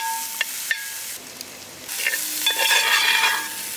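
Onions, chilies and ginger-garlic paste sauté in a pan for a lobster butter dish, with a few sharp stirring knocks and then a swelling, steady sizzle, close and fairly loud.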